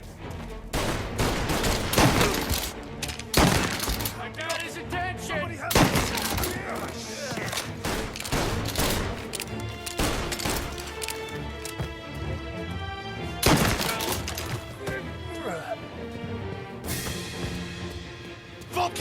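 A chaotic gunfight in Mafia: Definitive Edition, with repeated loud gunshots and volleys of fire scattered over the scene, shouted voices mixed in between and over the shots.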